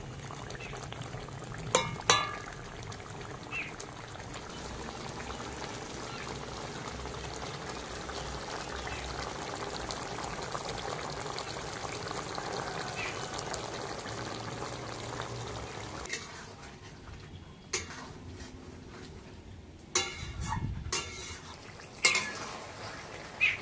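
Chicken in sour yogurt simmers in a pan, giving a soft, steady bubbling hiss broken by occasional scrapes and clinks of stirring, faint and without talk.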